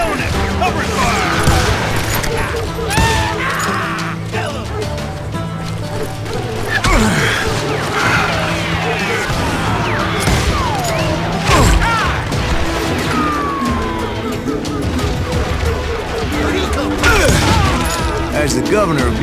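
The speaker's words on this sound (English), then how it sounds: "Stay on it! Cover fire!" Gunfire in the video game Call of Juarez Gunslinger, a loud, busy firefight of repeated shots and crashing impacts over a rumbling background, with a voice calling out over the action.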